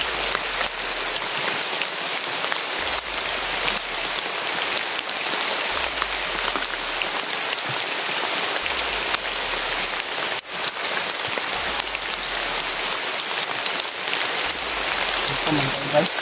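Heavy rain falling, a dense continuous hiss of drops hitting surfaces nearby, loud and steady throughout with a brief dip near the middle and a low rumble underneath.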